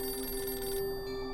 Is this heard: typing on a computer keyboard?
no